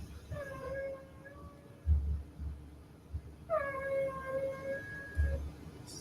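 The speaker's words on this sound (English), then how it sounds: "This is the female wing beats." Female insect wing beats form two sustained, lower-pitched harmonic buzzing tones, each about a second long and separated by a short gap, with faint low thumps beneath.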